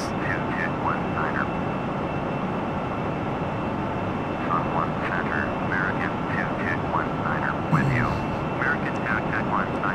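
A QualityWings 757-200 airliner's engines in Flight Simulator give off a steady, loud broadband drone that runs the whole time, with a person talking over it.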